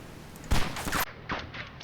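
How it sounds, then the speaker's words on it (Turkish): Gunfire in the survival video game DayZ bursts out in a rapid cluster of loud, sharp shots followed by a few more scattered reports, close and dense, with no talking. "Sıkıyor, sıkıyor adam. Adam sıkıyor dikkat."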